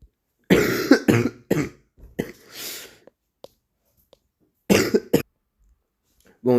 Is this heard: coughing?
yes